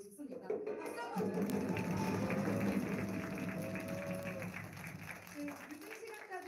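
Concert audience applauding, a broad steady wash of clapping that stays full and even from start to finish.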